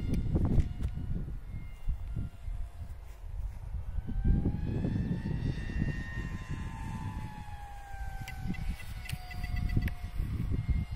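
A tailless flying-wing model aircraft in flight, its engine giving a sustained whine whose pitch glides up and down as it passes, set against low outdoor rumble and wind at moderate distance.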